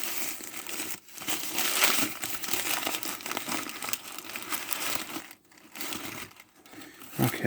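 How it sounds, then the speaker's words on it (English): Tissue paper wrapping around a Transformers and G.I. Joe collaboration figure being unwrapped up close, giving a steady crinkling and rustling that runs continuously with a few brief pauses. "So this is actually in some kind of tissue paper here."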